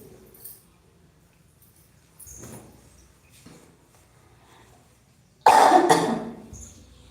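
Several coughs and throat clearings come in bursts, with one loud, harsh cough near the end standing out against quiet background shuffling.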